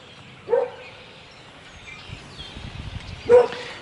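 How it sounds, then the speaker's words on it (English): Two short dog barks or yips, a few seconds apart, in an otherwise quiet room. "Yeah, that's my dog."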